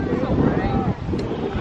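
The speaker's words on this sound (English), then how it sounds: "It's very, very windy, guys." Strong outdoor wind buffeting the microphone during a 1642 Battle of Northampton reenactment, a loud continuous rushing roar with gusty swells and no clear speech.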